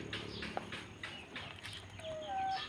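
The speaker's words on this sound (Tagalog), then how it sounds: "Dito po ako ngayon sa aking mga alagang manok" Soft, scattered clucking from backyard pet chickens, fairly faint and repeated over low background noise, with a brief thin chirp near the end.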